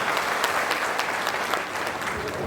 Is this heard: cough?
no